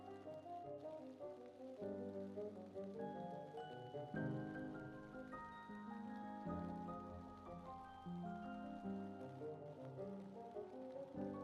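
Rain falling in the video game Venture to the Vile, a faint steady patter beneath louder sustained game music with drifting tones.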